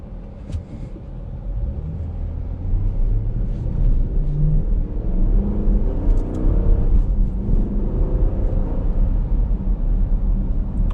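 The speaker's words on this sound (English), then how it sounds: "Beautiful sound from the V8." A 2018 Dodge Durango R/T V8 rumbles steadily from inside the cabin, a deep continuous engine drone with slight swells, loud and close, with no voices.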